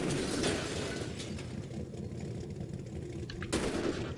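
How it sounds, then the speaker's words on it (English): In the racing game Next Car Game, a cannon fires, giving two heavy, crashing blasts near the start and the end over a constant rumbling noise. "Cannon, there it is."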